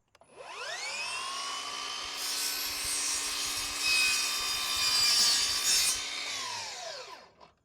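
A miter saw spins up and slices through a piece of wood molding in one continuous cut, loud and close, its whine holding steady before winding down at the end.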